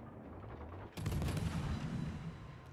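Naval cannon fire from a warship battle game booms in a dense, sustained barrage that starts abruptly and keeps rumbling, with no voices.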